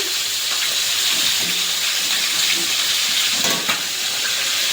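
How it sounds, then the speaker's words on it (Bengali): Spice masala with chilli, turmeric, coriander and cumin paste frying in a pan for a Bengali bhola fish curry with potato and eggplant, a steady close hiss and sizzle throughout with no talking. "মশলাটা একটু কষিয়ে নেবো"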